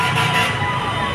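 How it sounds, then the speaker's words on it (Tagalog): Fire trucks rolling past near a blaze at the pier in the Parola area, a loud, dense wash of engine rumble and traffic noise with a horn-like tone, close and continuous for a brief moment. "ang daming mga mga fire truck na dumadaan"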